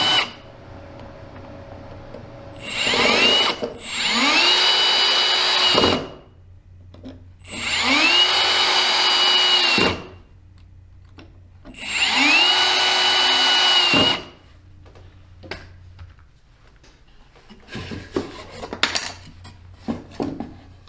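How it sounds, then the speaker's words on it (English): A power drill drives pocket screws into lumber while building a tiny off-grid home: three long, loud whirring bursts, each winding up to a steady run, followed by lighter clinks and handling noises, with no talking. "It's put in with the pocket screws on both sides"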